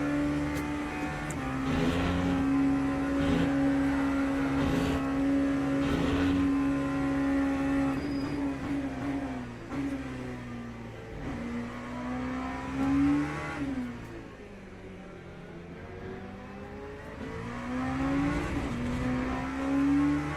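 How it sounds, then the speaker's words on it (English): An LMP3 prototype race car engine in the Le Mans Ultimate racing sim holds a steady high drone, then drops and climbs through gear shifts as it passes and pulls away, loud and close throughout. "Right, here comes the first LMP3."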